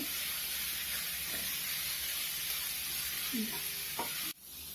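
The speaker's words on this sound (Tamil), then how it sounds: "அப்புறம் கருவேப்பிலை இதெல்லாம் போட்டு நல்லா வதக்கிக்கோங்க." Onions, green chillies and curry leaves sautéing in a pan for vada curry, a steady close sizzle and hiss with faint stirring scrapes, cutting off briefly near the end.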